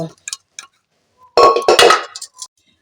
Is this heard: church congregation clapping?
no